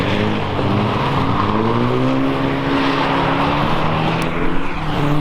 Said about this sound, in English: There's actually quite a few people here drifting.